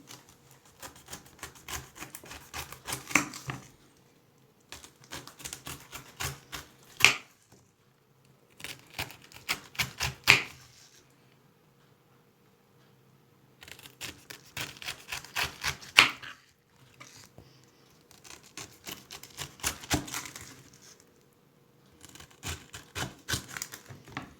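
A pineapple being cut open with a knife, firm repeated chopping strokes coming in bursts separated by short pauses, close and fairly quiet with no talking.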